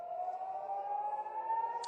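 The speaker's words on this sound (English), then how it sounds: "the sirens are going off here in Tel Aviv" Air raid sirens wail steadily over Tel Aviv, a sustained, slowly rising tone with a sharp sound at the very end, heard alone without talk.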